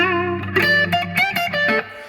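Electric guitar notes and chords in a blues style, with a light crunchy overdrive blended into a clean tone, ringing out briefly with sustain, no voices present.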